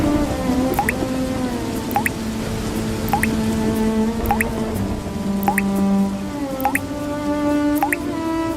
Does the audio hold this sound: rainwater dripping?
yes